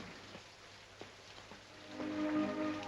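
Steady rain falls outdoors beside a house during a party, a soft continuous patter with a few louder drops, swelling a little toward the end.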